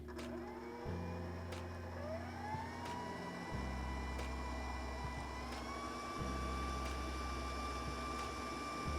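A stand mixer runs steadily while kneading crescent roll dough, its motor a continuous close hum with shifting whine and periodic rhythmic knocks, no talking over it.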